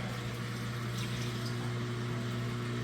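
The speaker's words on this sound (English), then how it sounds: "We're draining that water out nice and fast." A Speed Queen washing machine pumps water out as it drains, a steady droning hum with a continuous rushing wash over it, constant and fairly loud with no breaks.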